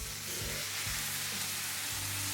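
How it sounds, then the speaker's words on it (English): Irn Bru hitting melting brown sugar in a non-stick frying pan, giving a steady close sizzle and fry with soft bubbling throughout. "So we'll just shove some Irn Bru in it."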